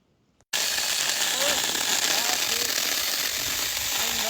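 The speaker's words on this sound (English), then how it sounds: "Check out this Hardell 6-inch mini chainsaw. It does short work of any tree, branch in your yard." A Hardell 6-inch mini cordless chainsaw cuts through a wood branch in a yard, starting abruptly after a brief quiet moment and then running as a loud, steady, unbroken buzz to the end.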